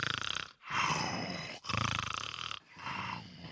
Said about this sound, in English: All this chaos is because of Shishimaru snoring away like this.